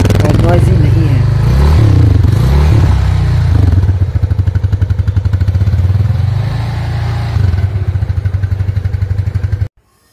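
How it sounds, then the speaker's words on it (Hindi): A Yamaha FZ25 motorcycle's exhaust, loud and close, revving up and down over its first seconds, then settling into a steady rapid idle thump before cutting out abruptly near the end. "मुझे इसका एग्जॉस्ट बहुत पसंद आया जो कि डीप और सॉफ्ट है और नॉइजी नहीं है।"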